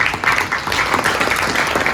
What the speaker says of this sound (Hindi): संजीव त्यागी जी के लिए एक बार जबरदस्त तालियां होनी चाहिए